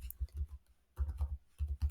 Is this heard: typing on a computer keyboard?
yes